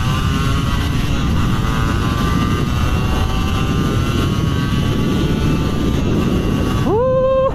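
A Yamaha 125Z underbone motorcycle engine drones steadily and loudly up close, its pitch creeping upward, then rises sharply in a quick rev near the end.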